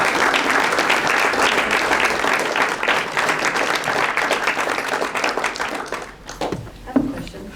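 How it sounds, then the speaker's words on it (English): An audience claps after a Holocaust exhibit speaker-series talk, with sustained applause for about six seconds that tapers off into a few scattered claps and a brief voice. "I'm going to give her a round of applause."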